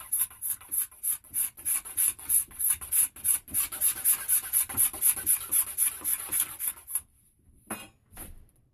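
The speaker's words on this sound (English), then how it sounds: "Just get the old scraper again and get rid of some of these marks on the back here." Steel scraper drawn repeatedly along the back of a wooden longbow, a close, steady series of about twenty dry rasping strokes, then a pause and two last scrapes.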